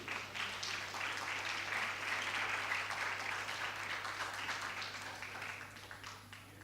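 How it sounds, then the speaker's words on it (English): Sustained applause from an audience at a talk on visual challenges and educating children, a dense, even wash of clapping holding steady for several seconds before easing slightly, heard at moderate distance with a low steady hum beneath. "Let us have a big round of applause for Mr."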